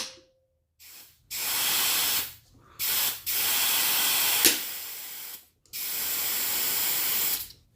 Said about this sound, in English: we're going to go ahead and add more compressed air, and then we're just going to see which one pops out first